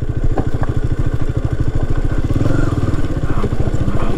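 A KTM Duke motorcycle rides off-road near Madikeri. Its engine thrums loud and close in a steady, rapid pulse, with clatter and thumps over rough ground throughout.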